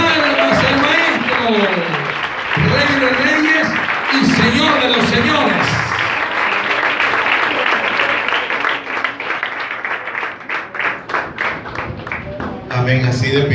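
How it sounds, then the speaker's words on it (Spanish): A church congregation at a leadership congress claps loudly in praise, sustained crowd clapping with a voice and music over it early on, then the applause carries on alone toward the end. "Demos una alabanza bien fuerte de palmas al Maestro, Rey de Reyes y Señor de los Señores."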